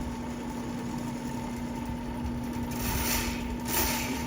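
A Ridgid K60 sectional drain cleaning machine with a 15-foot cable section runs steadily with a constant motor hum and tonal whine, growing a little busier near the end.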